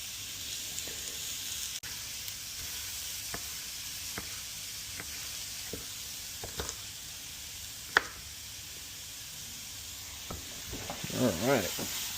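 Bell peppers fry in an Our Place titanium pan with a steady bright sizzle, punctuated by scattered clicks and knocks of stirring and a brief louder scrape near the end.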